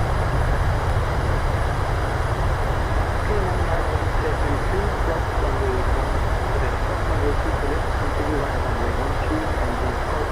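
Jet engines with thrust reversers on landing in Microsoft Flight Simulator give a loud, constant low roar and rumble, sustained and steady throughout with no break.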